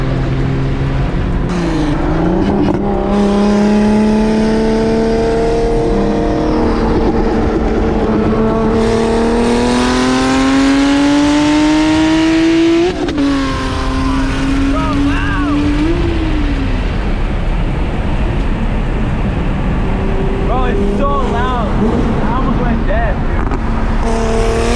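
Turbocharged BMW E46 M3 drift car racing a Nissan GT-R, loud engines revving in long rising sweeps with gear-change drops, close and roaring throughout with voices talking over the noise.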